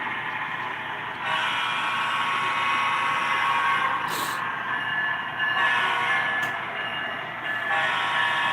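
A model train runs on a home layout during a live train show, its steady rolling rumble continuing throughout with a few brief sharper clicks and no talk over it.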